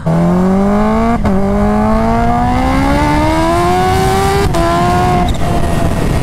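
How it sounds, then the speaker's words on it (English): Kawasaki Ninja H2 motorcycle roaring loud and steady through a second-gear burnout, its engine pitch climbing gradually with two brief dips, a continuous close howl with no talking. "I'm gonna put it in second gear and do a big old freaking burnout"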